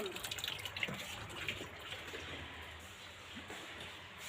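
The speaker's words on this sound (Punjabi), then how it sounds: "ਮਸ਼ੀਨ 'ਚ ਪਾਣੀ ਪੈਂਦਾ" Water pours steadily into a washing machine set up outdoors on a rooftop for laundry, a continuous broadband rush with faint bird calls and distant sounds in the background, no talking.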